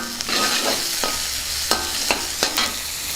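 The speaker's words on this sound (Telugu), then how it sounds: "ఇప్పుడు వెల్లుల్లిపాయ ముక్కలు వేసేద్దాం వెల్లుల్లిపాయ దెబ్బలు కూడా వేసుకున్నాం కదా మొత్తాన్ని ఒకసారి బాగా కలుపుకుందాం" Garlic pieces and green chillies sizzling in oil for a spinach tomato curry, with a continuous fry hiss and several sharp spoon clacks against the pan, close and alone.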